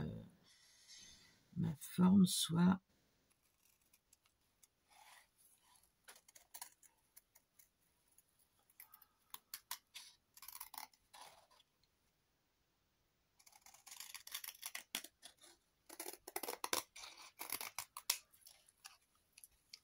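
Scissors cutting a paper scrapbooking embellishment shape: short snipping sounds come in bursts, loud at the start, then sparse and faint, then a dense cluster of cuts near the end, all close by, with no voices.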